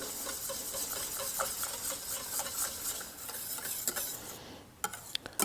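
Orange and cinnamon syrup being stirred into béchamel for pastéis de nata, a soft continuous swishing stir with faint rhythmic scrapes, ending in a few light utensil taps.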